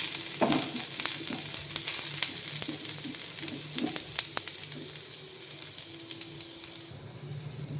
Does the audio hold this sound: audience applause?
no